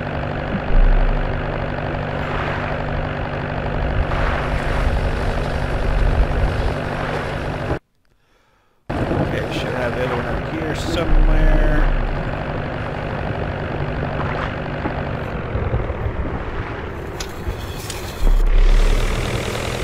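Upgraded fishing boat engine in a Barents Sea fishing video game, a steady loud droning hum running without break apart from a brief dropout near the middle, with no talk over it.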